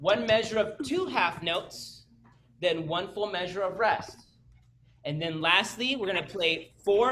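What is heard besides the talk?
None of the usual background noises is heard.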